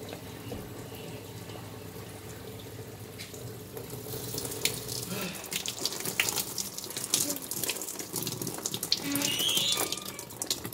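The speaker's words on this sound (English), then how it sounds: "And wash your hands." Tap water running into a sink during handwashing, a continuous close splashing flow that grows busier with hands moving under the stream, a faint voice in the background.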